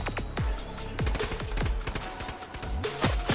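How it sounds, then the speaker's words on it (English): Rapid gunfire from a Fortnite match crackles in repeated bursts, close and loud, several distinct shots spaced irregularly across the moment with no talking over them. "We're getting shot from God knows where"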